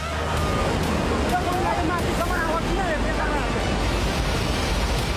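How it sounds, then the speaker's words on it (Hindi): Floodwater of the Bhote Koshi river in Nepal during a flash flood roars continuously as a loud, dense rush, with faint voices and cries mixed into the torrent. "भोटे कोशी नदी में आया सैलाब, बह गए घर बार।"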